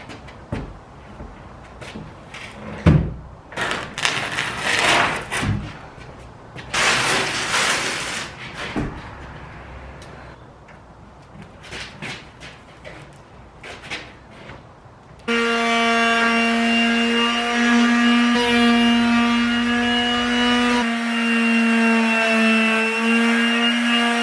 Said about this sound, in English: I'm done with sanding for now.